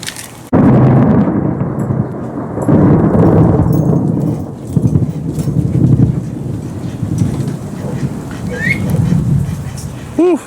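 Heavy thunder during a building rainstorm booms and rumbles loudly, with a sudden crack near the start and rolling, gusty noise that continues for about ten seconds.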